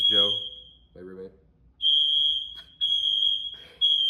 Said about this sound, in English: 6th fire alarm in 24 hours.